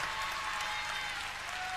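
Audience applause for an Italian singer after she sang in Neapolitan on a TV show, a dense steady wash of clapping throughout, moderately loud and without voices.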